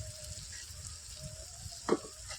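Turmeric and red chili powder tipped into a pan of hot oil for a Malvani-style crab curry, giving a steady low sizzle with a brief clatter of a spoon near the end, close and fairly quiet.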